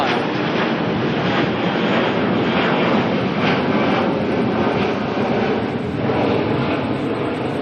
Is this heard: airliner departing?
yes